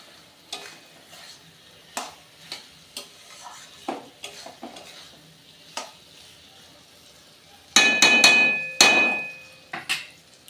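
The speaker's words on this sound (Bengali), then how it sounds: "দিয়ে আমি মশলার সঙ্গে খুব ভালো করে আবারও কষাবো" Fried dried lote fish being stir-fried with spices and a green chilli: repeated sharp spatula knocks and scrapes against the pan over a sizzle, building to a loud, dense burst of scraping and clatter near the end.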